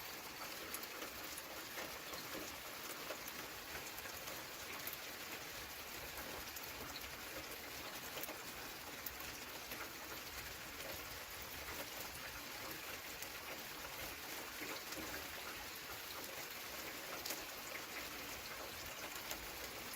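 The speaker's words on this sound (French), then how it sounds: "Si ça pourrait pleuvoir toute la nuit comme ça" Steady, even hiss of rain falling during an evening thunderstorm, soft and continuous with fine patter throughout, no voices.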